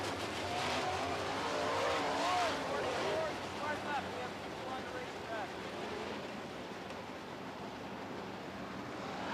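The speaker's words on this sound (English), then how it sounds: "Luke Dykstra rolls his 44D down the front straightaway, away from the rest of the pack" A super stock race car rolls down the front straightaway of an oval track during a feature race, its engine a steady roar that swells early and then holds under wind and crowd noise, with a faint announcer's voice in the background.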